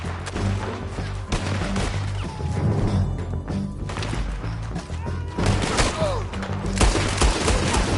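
Gunfire in Red Dead Redemption 2 rings out in dense, loud bursts of shots mixed with crashing impacts, keeping up without a pause throughout.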